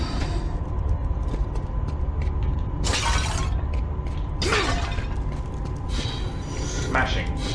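Objects smash and shatter in the God of War: Chains of Olympus video game, with three sharp breaking bursts spaced a couple of seconds apart over a steady mechanical game backdrop.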